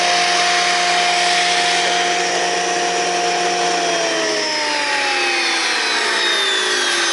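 A wood planer feeds a rough sawn board with a loud, steady roar and high whine, then its pitch sinks as the machine winds down toward the end, with no talk.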